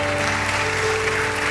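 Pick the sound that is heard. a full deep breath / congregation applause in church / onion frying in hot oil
congregation applause in church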